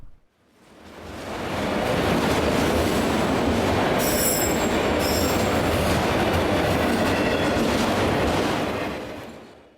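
A CSX-led freight train passes a crossing at Posey Road in San Marcos, Texas, rising quickly into a loud, close rumble with shrill wheel squeals that hold steady, then begin to fade.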